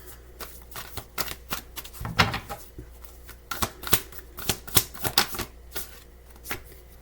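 Tarot cards are shuffled and drawn by hand close up. Repeated sharp riffling bursts and soft slaps come in an uneven rhythm, with a denser flurry near the middle and no speech.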